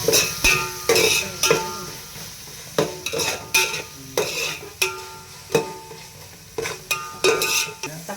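Coriander is stirred into mutton biryani, a spoon scraping and knocking against the pot in repeated rhythmic strokes about once a second, close and clear, over a soft background sizzle.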